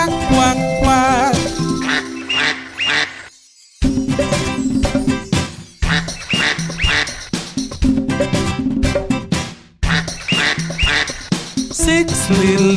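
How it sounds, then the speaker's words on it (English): Cartoonish duck quacks in a sung children's rhyme about six little ducks ring out loudly over bright, bouncy music, with repeated quacking phrases and short pauses. "he led the others with the quack, quack, quack."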